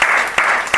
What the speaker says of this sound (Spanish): Te voy a dedicar un aplauso de todo el público que está aquí también.